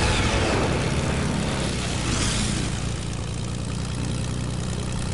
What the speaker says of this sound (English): Russell, I'm coming with the airplane.